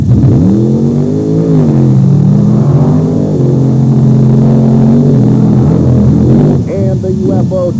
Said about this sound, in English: a new wrinkle to monster truck racing, running it on the sand